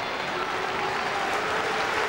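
Football supporters at a 2001 Kilmarnock versus Dundee Scottish Premier League match applaud in a steady, dense wash of clapping and crowd noise that fills the stadium without a break.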